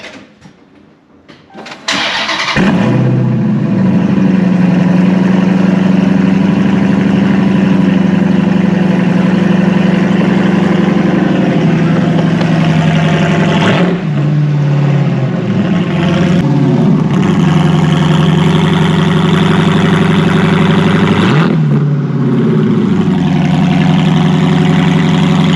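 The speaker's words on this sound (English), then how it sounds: "This is the MagnaFlow Xmod exhaust system." A Dodge Challenger Widebody with a MagnaFlow Xmod exhaust cranks and fires up loudly, then settles into a deep, steady rumbling idle with a couple of brief blips, close and alone.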